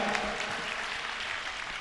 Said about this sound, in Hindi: बहुत बढ़िया, बजा दो भैया एक बार तालियां।